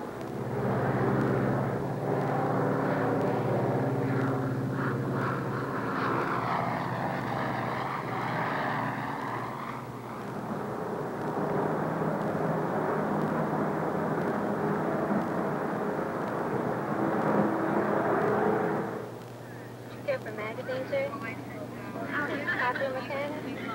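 Propeller airliner engines drone at climb power inside the cabin, a loud sustained roar with a brief dip partway and a drop near the end, heard alone without talking.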